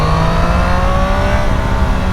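A blue Yamaha Niken motorcycle revs hard and steadily for about two seconds. The engine sounds loud and close, with no voices over it.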